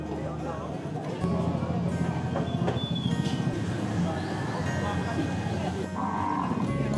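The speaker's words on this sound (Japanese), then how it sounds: "私がフィリピンに来て驚いたのがこの豚の叫び声。" Pigs at an outdoor animal market in Dumaguete, Philippines squeal loudly and continuously over a busy crowd murmur, with occasional sharper, louder cries rising from the din.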